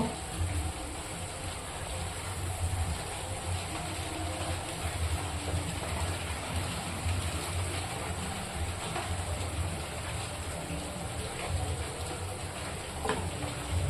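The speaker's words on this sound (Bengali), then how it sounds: "বাইরে বৃষ্টি পড়ছে" Rain falls outside as a continuous broadband hiss with a low rumble beneath, steady and moderately loud throughout with no voices.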